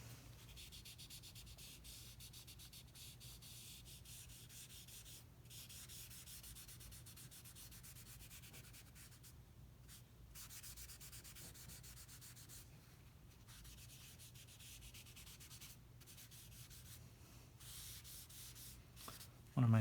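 Graphite stick blended across drawing paper while shading a portrait's hair and face, a steady soft rubbing and sanding hiss that runs continuously with small pauses, close and quiet with no talking.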